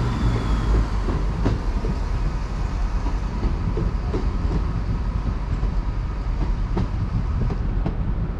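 The 13:25 train to Sheffield pulls out of a station on a Hull trip, with a continuous rolling rumble and scattered clicks and clacks from wheels over rail joints, steady and fairly close throughout.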